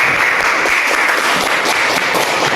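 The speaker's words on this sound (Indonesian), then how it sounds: "Tepuk tangan dong untuk kita semua" A room of colleagues at a morning training session claps together in sustained, lively applause, dense and even for the whole stretch.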